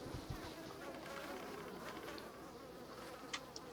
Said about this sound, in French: En tout cas, il y a des mouches.